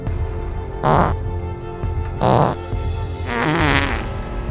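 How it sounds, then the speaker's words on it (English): Comedic farting sounds in a Wimpy Alien parody sketch, three loud separate blasts with pauses between, the last longest and rippling, over a steady musical background. "fart 100 times"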